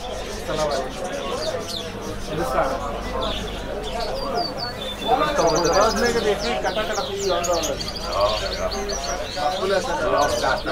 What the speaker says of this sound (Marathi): ह्या कबूतर, हे कबूतर आहे तिथं.